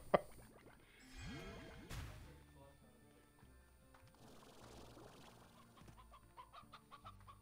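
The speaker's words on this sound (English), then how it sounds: "And a rooster." Chickens and a rooster clucking in the video game Slime Rancher, a busy mix of short clucks and calls over game background sounds, with a brief loud burst near the start.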